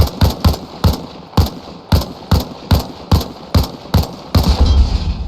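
Rifle shots from an M16 firing 5.56 rounds at a helicopter's main rotor: about a dozen loud, sharp single reports spaced roughly half a second apart, each with a short decay, ending in a louder sustained burst.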